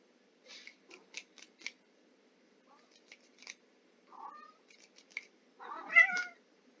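A cat meows repeatedly, with a run of short quiet chirps followed by a louder, longer meow near the end, close by in a quiet room.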